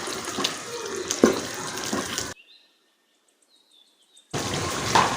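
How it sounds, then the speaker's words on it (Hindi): Water splashes into a pot of chicken korma for a couple of seconds, breaks off into near silence with faint chirps, then pours again. "अब हम इसमें जितना हमने पानी रखना है वो डाल लेंगे मसाले के हिसाब से"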